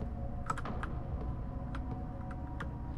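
Keys clatter on a computer keyboard during play of the horror game Tormented Souls, a quiet, close sequence of quick clicks in small irregular bursts over a low steady hum.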